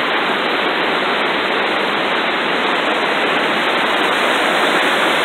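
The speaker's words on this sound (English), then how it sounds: "The creek's running pretty fast" A fast-running mountain creek in British Columbia rushes in a loud, constant broadband roar of water, close by and unbroken, with no voices.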